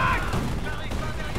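Rapid gunfire and battle explosions fill a World War II firefight in the strategy video game Company of Heroes: Tales of Valor, a dense, continuous loud clatter with shouting voices mixed into the chaos.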